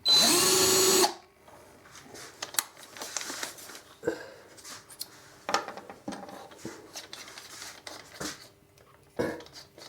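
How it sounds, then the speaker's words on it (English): A power drill whines loudly for about a second close by, drilling a wire hole in a chambered electric mandolin body, then stops, followed by scattered small clicks and handling taps. "I'm just going to drill the hole just a tad larger than the diameter of the wire"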